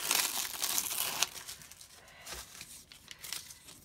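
A Cricut transfer sheet being peeled off a vintage Cricut project, giving a close, dry crinkling and tearing rasp that is loudest in the first second, then continues as softer crackles and rustles.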